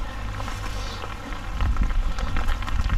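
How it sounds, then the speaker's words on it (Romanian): Rain falling outdoors at a fishing spot, a steady broadband patter that grows louder and denser partway through, with low rumbling underneath and no talking. "A început ploaia"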